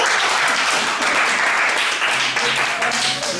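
A congregation at a Korean young-adult Sunday church service claps in steady, dense applause throughout, loud and close, with voices mixed in beneath.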